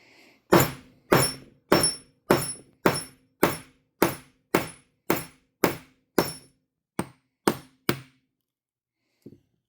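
A 2-pound brass hammer strikes a steel punch die about fourteen times in a steady, ringing rhythm, punching a silver dollar coin, each blow sharp and clear, the last few spaced out before stopping.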